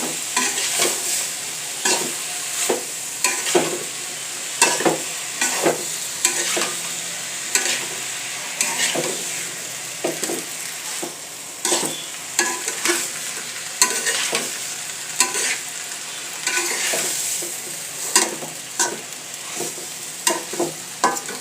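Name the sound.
hilsa fish head and taro frying with spices, stirred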